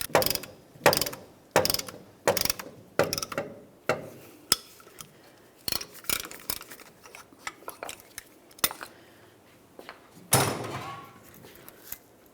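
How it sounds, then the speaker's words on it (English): Metal clicks and ratcheting clacks from a dual piston caliper depression tool pushing brake pistons back on a 1994-2002 Ram 2500 rear brake job, coming in irregular close bursts with quiet gaps and a louder rasp near the end. "Now we can continue on with our dual piston caliper depression tool."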